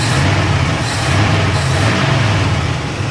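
A 1969 Ford F100 pickup engine running smoothly after carburetor repair, a loud steady low rumble holding constant close by with no talk.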